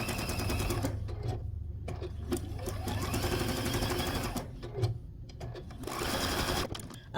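Sewing machine running steady rapid stitches for machine applique on a quilt block, close and loud, briefly pausing and restarting several times, with no voices.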